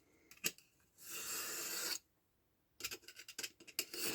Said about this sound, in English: I'm using a straight edge and a knife